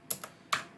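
Three quick, close keystrokes on a computer keyboard while typing git commands, two light taps followed by a sharper click in a quiet room.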